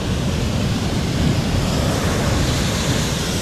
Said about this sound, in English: Come on then, let's have a look at the waves.